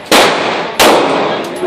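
Sniper rifle fired at a shooting range, two loud booming shots with long ringing decay about 0.7 seconds apart, followed by a fainter distant report.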